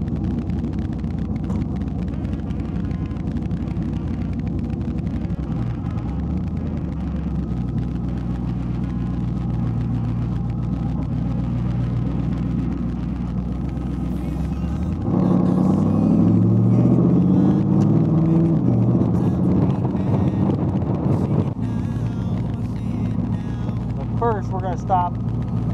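Steady low engine rumble from inside a moving truck, droning continuously and growing louder and rougher for a stretch in the middle.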